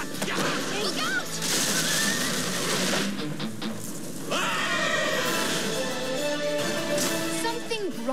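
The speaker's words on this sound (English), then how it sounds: "A horse." A horse whinnies amid a busy film soundtrack, with crashes and clattering mixed in. Voices talk over the scene.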